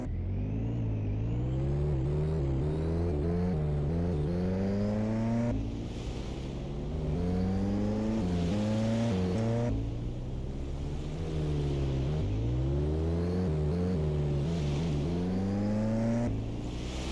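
Rover in the Eden Crafters video game driving steadily, its engine whine rising and falling in pitch with acceleration, loud and continuous throughout with no talk.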